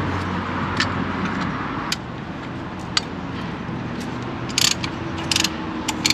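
A hand wrench clicking on a brake caliper during a rotor and brake pad job on a Jeep Grand Cherokee WK, heard as scattered sharp ratchet clicks over a steady background hum, with a short cluster of clicks near the end.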